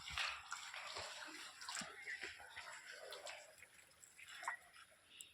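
Water from a pipe pours into a container at a large well on a solar plant site, a continuous faint splashing rush with small fluctuations throughout.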